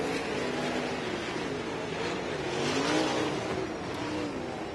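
Race cars circling the dirt oval at Berlin Raceway, engines droning with rising and falling pitch as they pass at a distance, a continuous roar with no close talk.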